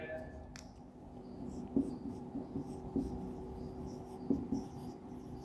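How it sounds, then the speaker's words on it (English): Chalk or marker writes on a classroom board during a sixth-grade maths lesson, with a few short, distinct taps and strokes close by over a quiet room background. "Ticket sold, we have to write that."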